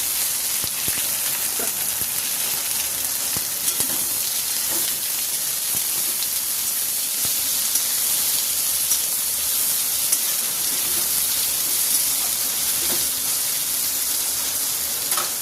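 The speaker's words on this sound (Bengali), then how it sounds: "এখানে দেখো মাংসটা ভাজা হয়ে গেছে ভালো করে" Meat fries with bay leaf, dried red chillies and garam masala in a pan, giving a steady, dense hiss that holds level throughout, with faint scattered clicks underneath and no talking.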